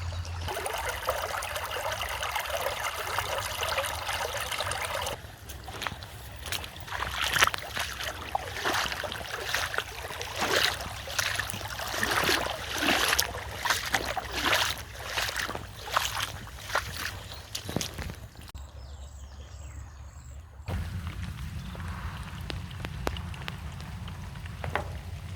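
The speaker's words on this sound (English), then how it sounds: "A road turned into a little river." Rainwater after a thunderstorm running down a road like a small river, a continuous rushing trickle and gurgle with soft splashy pulses, fairly quiet, briefly dropping away then resuming.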